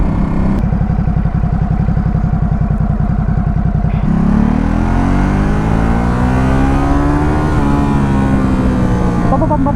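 Ducati Supersport S motorcycle engine, close and loud: a steady pulsing idle-like rumble for a few seconds, then a strong rev surge rising and sweeping in pitch as the bike accelerates, staying forceful to the end.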